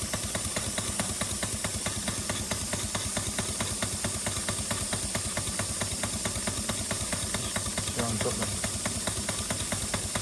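A large mill steam engine runs on steam with a leaking gasket, a steady close hiss of escaping steam over a fast, even mechanical chuffing beat that continues throughout.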